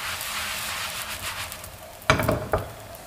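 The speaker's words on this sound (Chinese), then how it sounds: "全程我们保持中火烙饼，防止饼裂水分流失" Layered home-style flatbread fries in an oiled pan over medium heat with a faint, steady sizzle, then a few sharp clattering knocks of the pan near the end.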